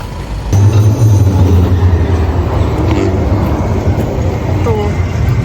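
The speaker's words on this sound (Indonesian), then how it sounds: "itu tramnya guys tuh" A tram passing on a street in the Netherlands, a loud close rumble of wheels on rails with a brief high squeal, steady throughout.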